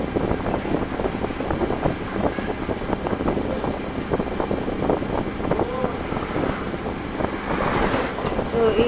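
Steady wind buffets the microphone while riding pillion on a motorbike along a road, a continuous rushing roar with gusty fluctuations, dense and close, and a voice faintly present beneath it.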